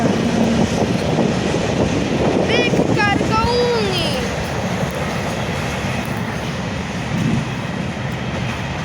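A regional passenger train rolls through Poznań Dębiec station, a loud continuous rumble of wheels with a brief high squeal partway through and wind buffeting the microphone.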